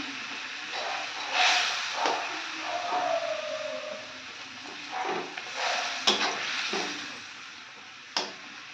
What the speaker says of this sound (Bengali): এই যে মাছের ঝালটা ফুটছে